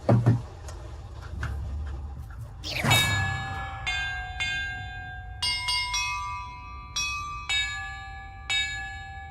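Bells being rung one at a time in a bell puzzle in the Hogwarts Legacy video game, clear pitched chimes at varying notes with ringing decay, following a rising whoosh.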